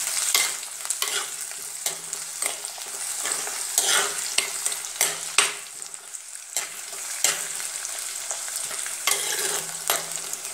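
Shallots, green chillies and curry leaves frying in hot oil for a Kottayam-style fish curry, a constant bright sizzle with frequent stirring scrapes, close and loud.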